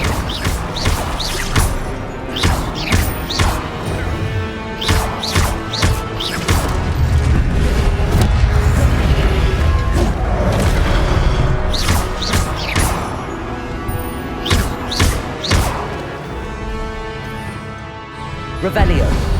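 A fire spell, Incendio, is cast in the wizarding video game Hogwarts Legacy, with repeated sharp bursts and crackling impacts over a dense, continuous layer of game sound and music.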